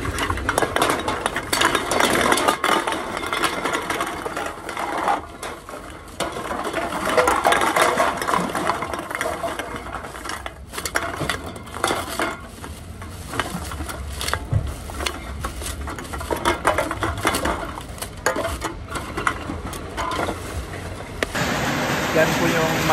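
A scrap recycling machine runs at an outdoor collection site in cold weather, giving a loud, continuous mechanical clatter and whir under a person talking.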